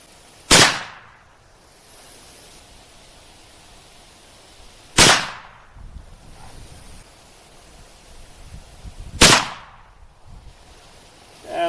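Three sharp, loud shots from a .410 shotgun firing Hornady Critical Defense rounds at a target, evenly spaced about four seconds apart, each with a brief echoing tail and quiet between.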